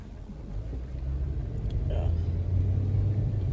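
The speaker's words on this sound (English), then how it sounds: "Me driving again" A car being driven along a road in South Trinidad, with a steady low engine and road rumble that swells slightly as it moves, close and continuous, with no talking over it.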